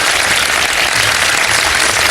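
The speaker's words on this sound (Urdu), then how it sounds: "بھرپور تالیاں بجا دیجیے جی ان کے لیے" Studio audience applause on a televised Ramadan iftar quiz show, a dense, steady wash of many hands clapping at even loudness throughout, with no voices on top.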